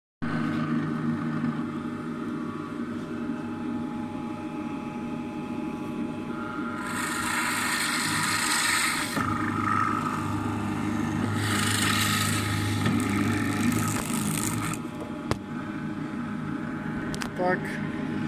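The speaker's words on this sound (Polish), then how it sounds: "Wiercę to na wiertarce stołowej" A bench drill press fitted with a 10 mm bit drills through a 40 mm pipe, giving two long bursts of harsh grinding rasp over a steady motor hum, while someone talks.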